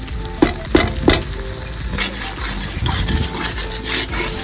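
Spices with Kashmiri red chili powder and chopped tomato stirred and sautéed in a pan for Bengali chicken curry, a steady close sizzle with a few sharp spoon scrapes at the start.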